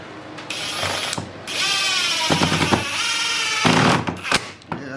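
Two bursts of ratcheting, whirring screw-driving drill into a DIY wooden mobile base, close and loud. The drill runs in short sustained runs that are separated by brief pauses.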